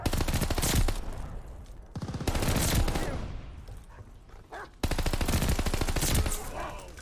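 Heavy automatic gunfire in Call of Duty Vanguard online play, loud rapid bursts of shots close by, broken by brief pauses and then renewed firing.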